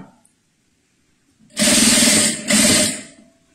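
Domestic sewing machine backstitching synthetic fabric for a zippered pouch: after a quiet start, two close, loud whirring runs of stitching separated by a brief pause, with no talk.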